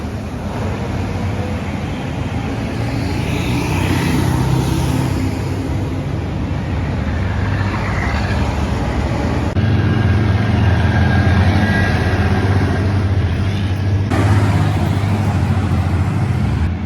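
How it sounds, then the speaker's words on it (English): Military trucks carrying missiles rumble past on a road in Ukraine, a heavy continuous engine drone with shifting intensity as the vehicles go by, fairly close and steady, with no talk. "So these are missiles driving by."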